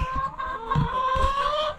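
Hens clucking inside their coop under a new chicken wire top, several soft overlapping calls and a steady murmur close by, with no talking.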